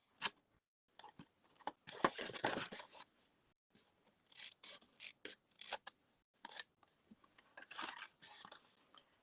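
Scissors snip through card for a small gift bag, a close, quiet series of crisp irregular cuts, some bursts of rapid snipping and pauses between them.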